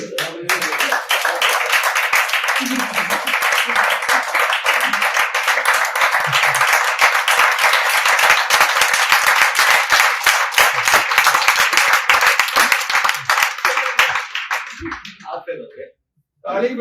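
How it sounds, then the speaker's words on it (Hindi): A group of people clapping in unison during a motivational MLM seminar, a loud, fast, steady run of sharp claps lasting about fifteen seconds before stopping abruptly, with a voice speaking faintly underneath. "ताली बजाने वाले रुक सकते हैं"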